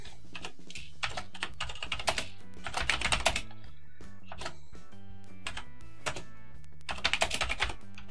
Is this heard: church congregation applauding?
no